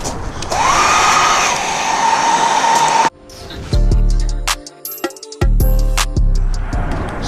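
Heat gun blowing onto tint film on car tail lights: a loud, steady blowing whine for about three seconds that then cuts off, followed by clicks and handling noises.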